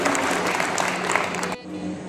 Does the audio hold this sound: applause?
yes